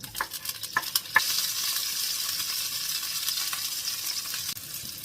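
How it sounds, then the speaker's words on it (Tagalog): Frozen garlic sautés in hot avocado oil with a steady, bright sizzle, broken early by a few sharp stirring clicks and scrapes; no voices. "mag-gisa na tayo gamit ang avocado oil. Kain na natin ang ating bawang kasi ito ay frozen."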